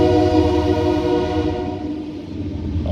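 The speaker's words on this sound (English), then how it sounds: "have to talk in between the train horns." A train horn blows long and steady in a loud, sustained blast near an outdoor metal-detecting dig during a lightning storm, fading slightly toward the end.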